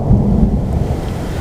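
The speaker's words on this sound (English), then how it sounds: "it sounds like another thunderstorm is coming in" Heavy low rumble of thunder from an approaching thunderstorm in the Rocky Mountains, rolling steadily and loudly through the whole stretch with a faint wash of rain behind it.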